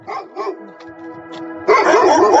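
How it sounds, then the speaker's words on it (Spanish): Dogs barking furiously at a distant farm: a couple of sharp barks, a brief yip, then a loud, sustained harsh burst of barking at the end. "Podía oírse asimismo el furioso ladrido de los perros en una granja lejana."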